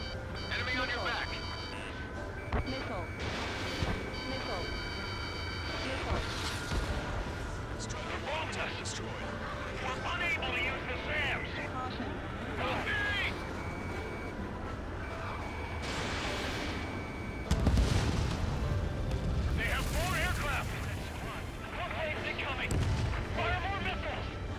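Missiles and explosions from the aerial combat game Ace Combat 7 boom and crack repeatedly over a steady jet drone, with a warning beep and a cockpit radio voice running underneath.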